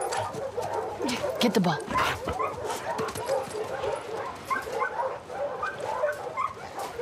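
The dog Bear in The Last of Us Part II whimpering and yipping close by, in a string of short whines and small barks, with a person talking over the dog.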